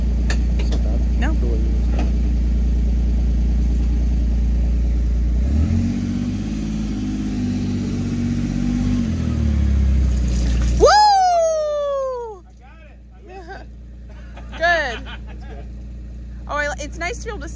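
A steady low diesel-like engine rumble, rising briefly in a deeper revving surge before cutting off, followed by quieter background noise and some higher whistling sounds.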